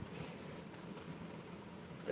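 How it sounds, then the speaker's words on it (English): Rain patters steadily in the background as a soft, continuous wash of faint drops, with no voices over it. "If you guys can hear the rain in the background."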